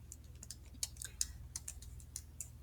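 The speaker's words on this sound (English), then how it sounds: "I've got my calculator sitting next to me, so I'm just going to type all of this in." A handheld calculator being typed on: a quick, irregular run of light plastic key clicks, close and fairly quiet, with no talking.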